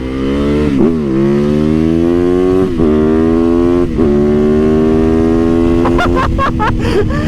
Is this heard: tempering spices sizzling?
no